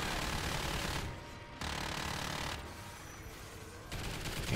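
Loud turret machine gun fire from a video game hammers away in sustained stretches, dropping briefly between bursts before resuming at full intensity, with no voices.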